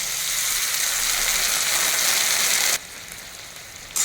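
Chilli chicken sizzles loudly in a hot pan as cornflour slurry goes in, a dense steady crackle and hiss that suddenly drops to a quieter simmer partway through and then briefly flares again.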